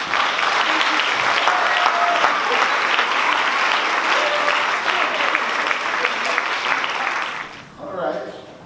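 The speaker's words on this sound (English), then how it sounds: "you may applaud" Loud, sustained applause from a crowd at a retirement banquet, clapping filling the room for several seconds before fading out at the end.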